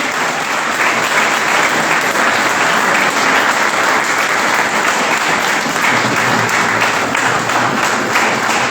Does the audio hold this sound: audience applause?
yes